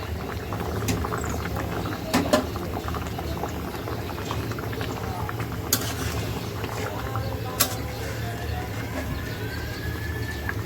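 Fish curry with potatoes, peas, ripe tomatoes, green chillies and chopped coriander simmers in a pot, giving a steady, continuous bubbling hiss with a low rumble and a few faint clicks throughout.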